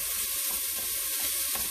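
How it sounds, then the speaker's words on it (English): Bacon sizzles and sautés in a pan, rendering its fat with a steady, dense crackling hiss that runs without a break. "We're just going to kind of saute this, get some of that fat rendered that's on the bacon here."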